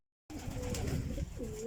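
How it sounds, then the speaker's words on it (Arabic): Pigeons coo softly in a backyard coop, low throaty calls coming close and repeated over a quiet background. "ده الحمام بتاعي"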